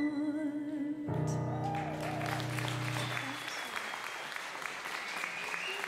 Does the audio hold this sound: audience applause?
yes